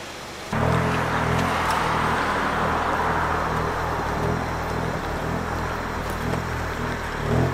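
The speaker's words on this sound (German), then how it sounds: "Und jetzt fahren wir mit dem Auto mal eine Runde." A Ford car running on autogas (LPG) drives along, its steady engine drone and road noise starting abruptly and holding constant and close throughout, with no talk.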